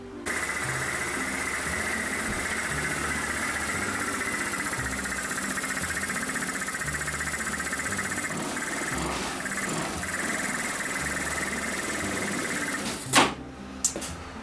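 A KYMCO Dink Street 125 scooter engine, freshly fitted with new oil, a new spark plug and an oil filter, idles steadily and loudly with a fast even putter, then a sharp knock near the end.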